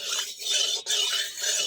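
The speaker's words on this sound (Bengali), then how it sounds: "তার জন্য তেলটা একটু নেড়ে দিচ্ছি" Oil being stirred in a pan on a village clay stove, a steady hissing, scraping wash that runs almost without break for under two seconds, with one brief pause midway.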